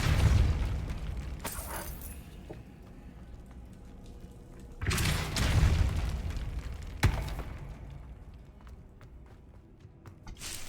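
Depulso spell blasts in Hogwarts Legacy, heard as a few booming bursts with a crackling, shattering edge, separated by quieter rumbling game ambience and footsteps.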